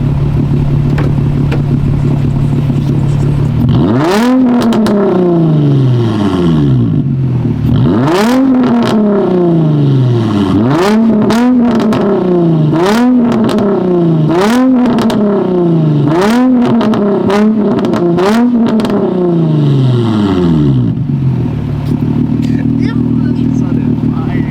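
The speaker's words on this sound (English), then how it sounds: "As y'all saw, it pops and burbles, nigga, just from a muffler and resonator delete." A straight-piped Infiniti G35 with muffler and resonator deleted revs hard about eight times in quick succession, each rise falling back with crackling pops and burbles, loud and close over a steady idle.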